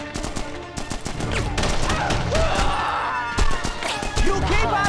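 Gunfire in the Punisher video game, bursts of sharp shots and rapid volleys close and loud, mixed with game voices and clattering effects throughout.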